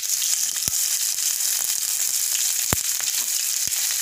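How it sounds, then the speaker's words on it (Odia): Onions fry in hot oil in a pan after bay leaf goes in, for a masala peas and potato curry; a steady close sizzle runs throughout with a few sharp pops and stirring clicks, no voices. "ପିଆଜକୁ ଲାଲ କରି ଭାଜି ନେବା।"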